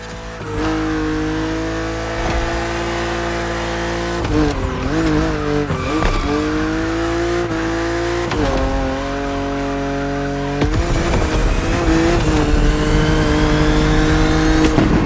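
A BMW in The Crew Motorfest revs hard and shifts through gears on open road, with a loud, steady engine drone that rises and drops repeatedly, plus occasional tire squeal.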